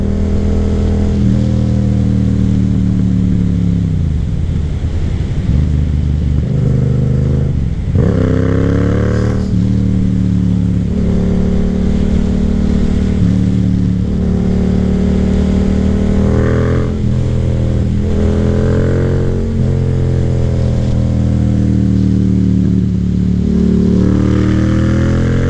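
A Yamaha FZ-07 motorcycle engine, loud and close, revving up through rising pitch sweeps and easing off between pulls, with steady wind noise throughout.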